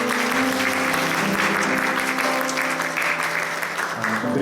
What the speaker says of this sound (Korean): 박수로 환영해 주실까요?